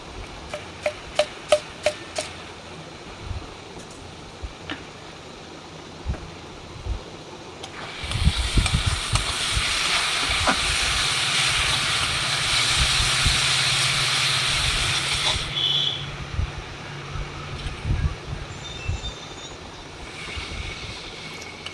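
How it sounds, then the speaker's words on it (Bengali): Masala spices are fried down in a pan for a pomfret fish curry. After a stretch of quiet clicks and taps, a loud, steady hiss runs for several seconds, then drops back to scattered faint sounds. "এই যে দেখো মশলাটা খুব ভালো মতো করে কষিয়ে নিচ্ছি।"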